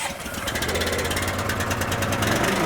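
A small engine being started and running, with a rapid, even chugging pulse and a mechanical rattle that holds steady and loud up close for the whole stretch.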